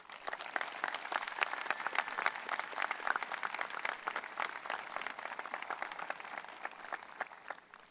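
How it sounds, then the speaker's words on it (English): A high school graduation audience applauds the class salutatorian, a steady wash of many hands clapping at a moderate distance that carries on without a break, with no speech over it. "Now let's hear some cheering for our salutatorian, Allison Kane."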